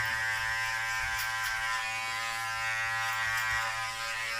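Electric clippers trim a beard, giving a steady close-up buzzing hum throughout with faint brushing and snipping as the blades pass through the hair, without any speech.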